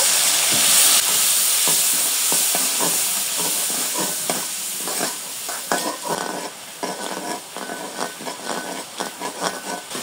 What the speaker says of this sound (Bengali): দিয়ে দিব তেলের মধ্যে পেঁয়াজ কুচি, দিব স্বাদ মতো লবণ, হলুদের গুঁড়ো, সামান্য একটু জল দিয়ে পেঁয়াজগুলো কিছুক্ষণ কষিয়ে নিব।